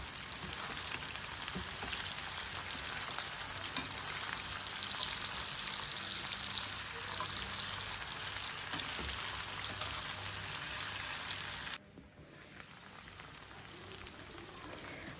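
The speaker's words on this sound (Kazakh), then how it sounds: "Келесі кезекте картопты салып қуырамыз." Potatoes frying with chicken in a pan give a quiet, continuous crackling sizzle that holds steady, then drops in level for the last few seconds, with no voices.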